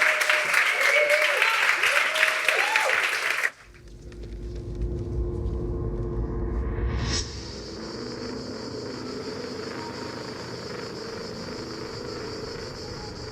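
A live audience at a Blender case-study presentation gives a loud, dense round of applause for a few seconds, then it cuts off abruptly and a low, steady rumble with a rising tone takes over.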